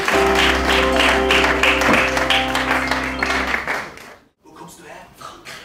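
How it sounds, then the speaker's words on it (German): Audience applause at a live storytelling show at a Dresden off-theatre festival, dense clapping for several seconds that tapers off, followed by someone speaking. "Gebt dir einen Applaus."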